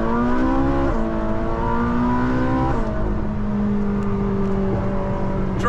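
Ferrari 458 with muffled factory exhaust accelerating onto a highway, its engine note climbing through gears with steady loud drone and shifts, alone without talk.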